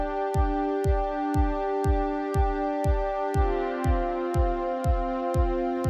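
A kick drum thumping in a steady four-on-the-floor pulse, about two beats per second, over a sustained synth pad chord in Ableton Live, both loud and even with no talking.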